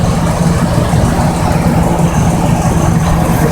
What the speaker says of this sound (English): Idle should be running about 800.